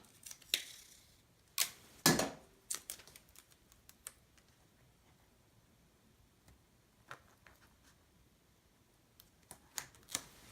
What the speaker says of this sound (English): So I'm gonna take my tape